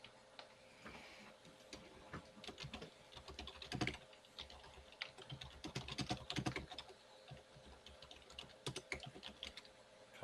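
Close, clattering keystrokes on a computer keyboard, irregular bursts of typing with brief pauses, captured quietly over a voice chat during an online Dungeons & Dragons session.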